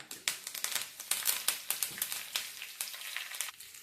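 Mustard seeds, dried red chillies and curry leaves sizzle in hot oil for a sambar tempering, with rapid, close crackling pops over a steady hiss.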